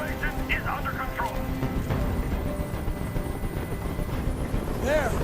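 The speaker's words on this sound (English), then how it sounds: "I can't stand that noise anymore. Tell that helicopter to get out of here." A helicopter hovers overhead in the video game Detroit: Become Human, a continuous rotor drone under the game's ambient noise and a voice.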